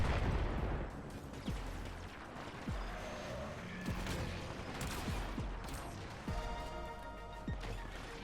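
Pistol shots in Warframe, a series of sharp cracks spaced roughly every half to one second over a busy background of game noise, moderately close and fairly loud.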